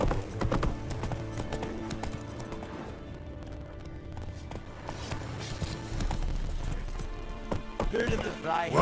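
Roach the horse's hooves clip-clopping in The Witcher 3, a steady rhythmic trot layered under game music and ambient noise, with voices talking over it.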